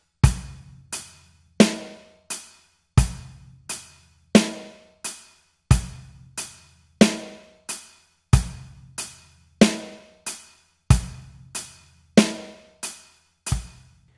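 Basic four-count rock beat on an acoustic drum kit: bass drum and hi-hat struck together with snare backbeats, a steady even pulse repeating over and over, close and clear with no talking.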